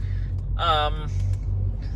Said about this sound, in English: Here goes the Mack LEU.